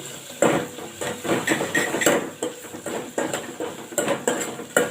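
Metal spoon scraping and clinking rhythmically against a pan while stirring a cowpea mixture for a spicy charu, steady repeated strokes close up with no talk.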